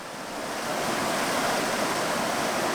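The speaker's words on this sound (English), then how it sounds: "got to another set of rapids. It was sounding pretty beefy" Rushing whitewater from a beefy set of rapids on a remote Arctic watershed river, a steady loud broadband roar that swells slightly in the first second and then holds constant, heard close with no voices.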